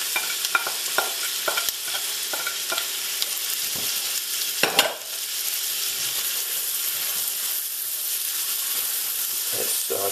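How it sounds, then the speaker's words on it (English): Fresh Maine lobster and scrambled eggs sauté in a pan over reduced heat, giving a steady, close sizzle with intermittent stirring scrapes and clicks throughout. "Let's saute a bit."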